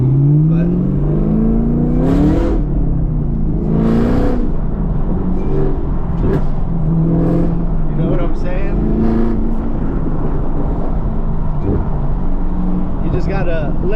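Chevrolet Camaro ZL1 1LE engine rising and falling in repeated revving surges while driving, heard from inside the cabin under steady road rumble, with someone talking over it.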